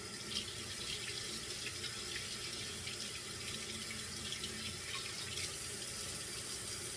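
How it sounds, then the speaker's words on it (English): Tap water runs steadily and close by, rinsing a rusty cast iron pan in a sink, with a continuous hissing splash and no talking. "So I'm going to rinse it."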